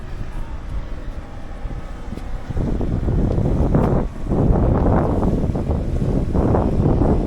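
Wind gusting at sea near coastal caves beside a small boat, rough buffeting rumble that swells louder after a quieter opening and keeps surging in uneven gusts.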